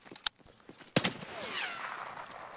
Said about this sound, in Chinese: 我们还被三号场打了一枪